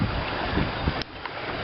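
A rocky river in Wales rushes over stones and small waterfalls, giving a steady, close, full-bodied wash of water with brief splashy surges and no voices.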